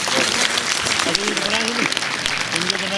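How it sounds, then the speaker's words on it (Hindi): Audience applause at a formal literary event honoring a Uttarakhand author, dense steady clapping throughout while a voice speaks over it. "हाँ तो जोरदार तालियों से"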